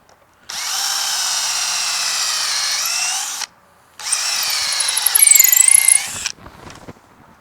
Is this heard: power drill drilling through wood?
yes